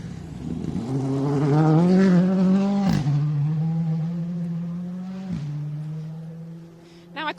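A rally car on a Subaru Rally of Canberra stage approaches and passes, its engine note climbing under acceleration, then dropping and holding steady as it moves away, with a brief gear-change break along the way.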